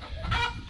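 Ameraucana chicken giving a short, loud squawk close by in a backyard flock setting, a single brief harsh call.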